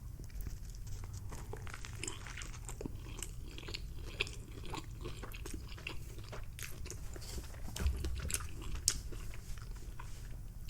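Bites of an Impossible Burger with lettuce, tomato and pickles are chewed close up, giving soft repeated wet crunches and mouth sounds at an irregular rhythm, quiet and with no talking.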